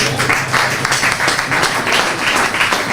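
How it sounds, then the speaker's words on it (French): An audience applauds at a doctoral schools prize presentation, a dense, loud, continuous wash of many hands clapping together, with no voices over it. "Sous vos applaudissements, s'il vous plaît."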